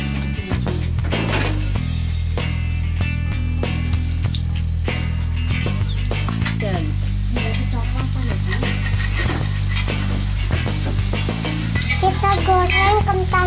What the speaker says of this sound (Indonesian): Pertama, kita siapkan minyak yang sudah panas. Kedua, kita masukkan kentang.